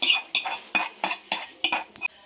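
A utensil stirs curd into a hot tempering in a pan, making about six quick, close scraping strokes in a steady rhythm with small metallic clinks, and no one speaks.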